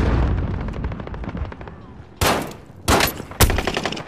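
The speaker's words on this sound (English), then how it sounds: "Receiving hostile fire." Hostile gunfire in a video game: heavy rhythmic shots and bursts ring out, with several sharp loud blasts standing clear of the ongoing firing over a few seconds.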